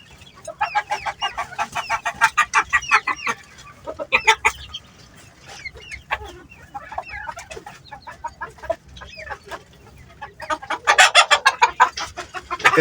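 A hen clucking loudly and close while laying an egg, repeated rapid runs of cackling calls with short pauses between bursts, growing more intense toward the end.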